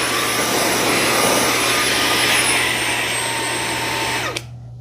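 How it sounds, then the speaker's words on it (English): Fanttik Slim V9 Mix handheld car vacuum running with a steady, loud motor whine and airflow hiss, holding constant before it cuts off abruptly near the end. "This is a really nice handheld vacuum."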